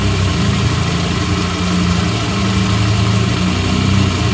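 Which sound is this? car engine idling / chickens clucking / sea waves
car engine idling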